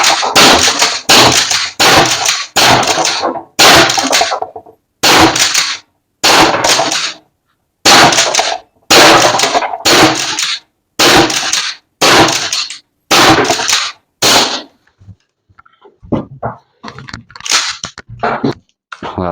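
An Umarex HDX 68 pump-action air shotgun fires repeatedly into plyboard, a string of loud, sharp cracks in irregular pairs and singles, each followed by the clack of the pump, ending in scattered fainter taps and rustles.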